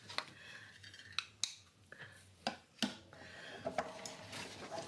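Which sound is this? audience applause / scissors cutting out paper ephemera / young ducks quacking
scissors cutting out paper ephemera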